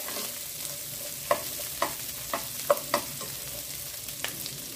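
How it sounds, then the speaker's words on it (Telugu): Onions frying in oil in a pan for chicken biryani give a steady sizzle, with several sharp scrape-and-clink accents as the spatula stirs them, close and alone without talk. "ఇప్పుడు 1 కప్పు ఆనియన్స్ వేస్తున్నాను. దోరగా వేయించుకుందామండి."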